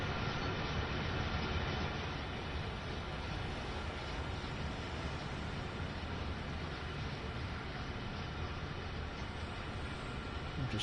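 Trains rumble along a German route in the video game Train Sim World 6, a continuous even rolling drone of wheels and running gear held at steady moderate loudness throughout.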